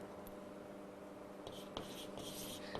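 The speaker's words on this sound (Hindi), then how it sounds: "तो यहाँ लिखती हूँ मैं" Pen scratching across paper while writing notes, quiet and close, with a few short strokes building into denser scribbling toward the end.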